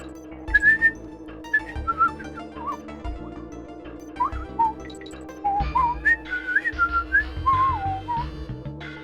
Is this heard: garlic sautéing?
no